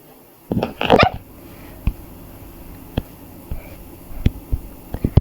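A small dog in a video game whimpers and yelps briefly near the start, followed by scattered sharp clicks and taps against a quiet background.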